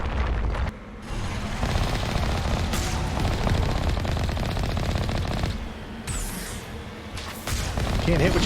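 Sustained automatic gunfire and explosive bursts from a Mass Effect Legendary Edition firefight on Insanity difficulty, loud and dense throughout with brief dips, mixed with game effects and a voice speaking over it.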